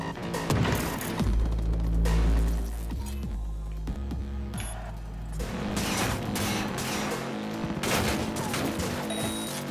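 Gunfire in Cyberpunk 2077 rattles in loud, rapid volleys with metallic clinks, laid over a busy, thick background of game sound.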